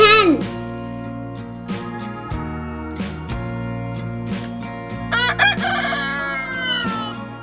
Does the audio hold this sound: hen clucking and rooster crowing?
yes